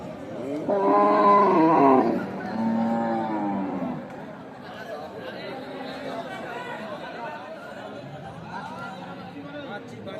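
At a cattle market selling Holstein Friesian dairy cows, a drawn-out, loud lowing call rises near the start, followed by fainter calls amid steady crowd chatter.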